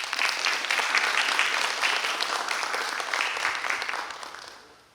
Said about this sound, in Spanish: Fuertes aplausos al doctor